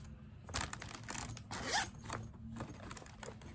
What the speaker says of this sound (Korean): 지퍼 고양이로 되어 있고